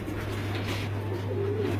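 Pigeons cooing on a rooftop loft where breeding pairs of fancy breeds are kept, soft rolling coos continuous over a steady low hum, moderately close, with no talk.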